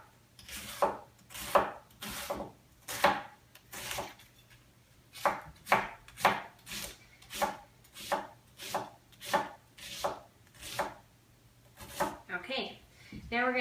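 A knife chopping cabbage for sauerkraut, steady rhythmic cuts against a board, close and crisp, roughly one stroke per second, then quicker strokes at the end.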